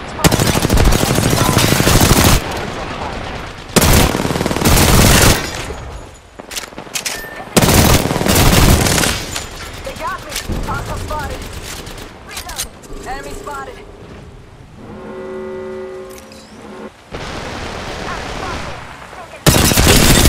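Heavy gunfire in Apex Legends, with loud sustained bursts of automatic fire alternating with quieter gaps, scattered single shots and game tones, and a voice speaking briefly between bursts.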